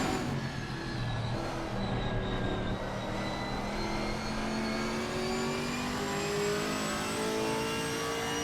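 A GT4 race car at Snetterton circuit howls through the gears on track, its engine note climbing in steady pitch sweeps while another car's engine drones alongside, loud and continuous.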